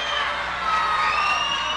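Loud crowd cheering and applause welcoming the comedy troupe Nomos at a live show, a dense, sustained roar of shouts, whoops and clapping with high voices rising through it.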